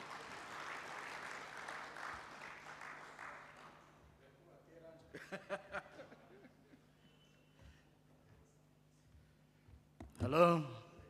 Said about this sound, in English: Round of applause for our Wachiga people.